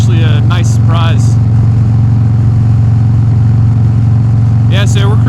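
A 2018 Harley-Davidson Softail Heritage Classic rumbles in a steady, loud cruising drone at highway speed, with a rider's voice breaking in briefly at the start and end.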